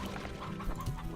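Hens cluck in the Slime Rancher video game, a short burst of soft, close clucking set over ambient game music.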